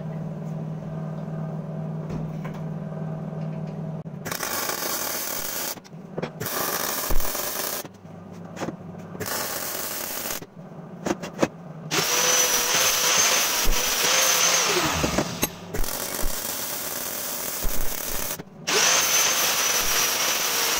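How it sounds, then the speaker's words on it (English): Steel suspension parts for a go-kart double-wishbone front end being welded, heard as loud crackling bursts of several seconds each with short silent gaps between them. "now I'm going to weld it up"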